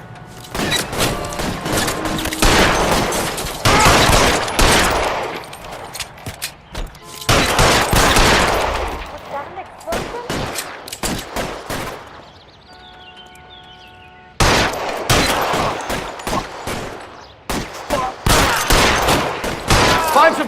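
Gunfire rings out in the video game L.A. Noire Remastered during a fight with security men, dense bursts of sharp shots in rapid volleys, pausing briefly around the middle and abruptly resuming for several more heavy rounds.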